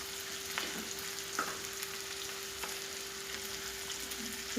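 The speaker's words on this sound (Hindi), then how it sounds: "पाँच मिनट फ्राई करेंगे" Chicken frying in a pan while Chicken Dragon is cooked, giving a steady broadband sizzle with a faint constant hum and a few soft clicks of stirring throughout.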